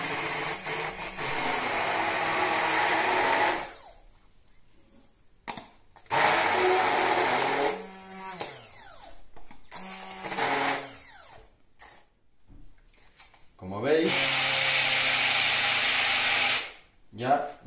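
A blender purées blackberries for homemade jam in several loud whirring bursts separated by quiet pauses, the motor straining as seeds collect, with a person talking between runs.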